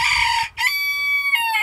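A rooster lets out a loud, nearby cock-a-doodle-doo, a drawn-out, piercing call with a brief break in the middle.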